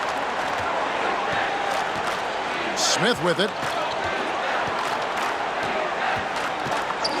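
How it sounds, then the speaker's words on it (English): A loud Chicago arena crowd in NBA 2K23 roars steadily after a Michael Jordan slam dunk, with squeaking shoes and a brief cheer swelling over the din as a commentator speaks above the noise. "Boy, listen to this Chicago crowd erupting."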